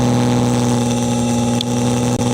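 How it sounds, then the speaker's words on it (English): A race car with no windshield runs loud and steady at a constant engine note, droning continuously close to the microphone with no speech over it. "I am driving a race car"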